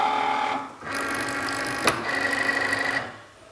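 A Cricut Maker cutting machine loading a sheet of vinyl, a motorized whirring hum with a brief mechanical click and a steady electronic tone, close and moderately loud, ending as the motor stops.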